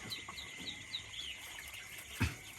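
Small, faint peeps and chirps from ducklings packed into a crowded nursery pen at night, repeated in quick succession with one brief louder bump near the end.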